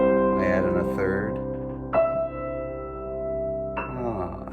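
A consonant chord built on octaves and fifths with an added third sounds in two or three sustained strikes, each note ringing and slowly decaying, with no talking over it.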